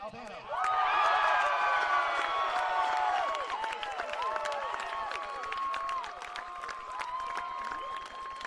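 A crowd at a college baseball championship game breaks into loud applause and cheering with shouts and whistles, swelling suddenly and then holding steady while fading slightly.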